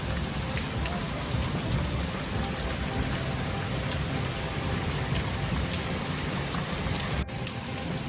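A heavy downpour falls continuously outside a house, a steady even hiss of rain on surfaces at moderate, distant loudness, with no speech.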